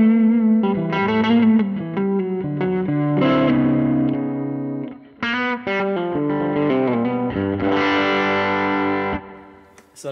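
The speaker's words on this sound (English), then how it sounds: "Produces a modulated reverb effect that is lush and sweet" Sustained electric guitar chords through a Valeton GP-200LT modulated reverb ring out with lush, shimmering reverb and wavering, chorus-like modulation, loud and alone, each chord blooming and decaying smoothly.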